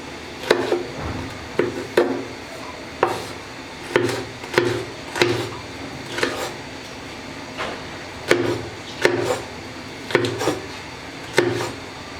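A knife cutting okra into pieces on a board, with irregular sharp chops and taps spaced out one by one, close and clear with no talk.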